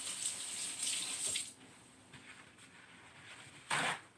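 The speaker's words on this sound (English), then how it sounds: "I'll wash this knife off real quick." A kitchen knife is scrubbed with a soapy sponge under a running tap, a soft, fairly quiet stream of water with brief splashing surges and a louder splash near the end.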